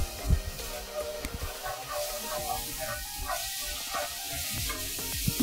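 Cumin seeds and lemon sizzle in hot oil in a home kitchen pan, giving a soft, steady hiss with small crackles and the odd clink of a utensil.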